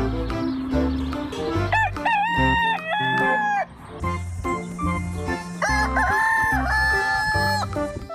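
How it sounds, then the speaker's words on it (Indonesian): A rooster crows several times over loud music with tonal melodies and a pulsing beat, the crows rising and holding in long calls. "ayam jago."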